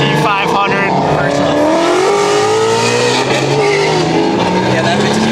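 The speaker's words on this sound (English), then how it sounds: "we're racing a GT500 versus a fully built 340 downpipe tune." A tuned, fully built manual BMW 340i with downpipe, about 750 hp, races a Ford GT500 at night, loud sustained engine roar with rising revs and tire noise up close, while voices shout over it.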